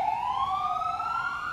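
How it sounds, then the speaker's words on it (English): A siren wails steadily, rising slowly in pitch, heard from a short distance at an emergency management services site in McDowell County, with no speech over it. "You can hear the sirens behind me."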